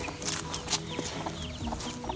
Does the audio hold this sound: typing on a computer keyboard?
no